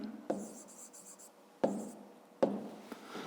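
Pen strokes scratch on paper while a math exercise is worked out by hand, with a few short, close scribbling bursts separated by brief pauses, with no talking.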